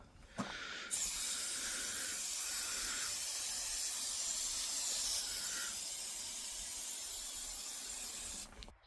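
A can of cheap oven cleaner sprays in one long, steady hiss of nearly eight seconds. It starts with a sharp onset and cuts off abruptly, with no talking.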